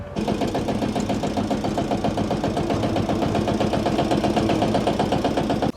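A tractor engine runs steadily at a village farm, its rhythmic mid-pitched chugging loud and close for the whole stretch with no talk over it.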